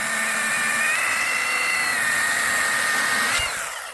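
Milwaukee M18 cordless chainsaw with an 8-inch bar, close and loud, cutting steadily with a high whining buzz for about three seconds before the tone dips and winds down at the end of the cut.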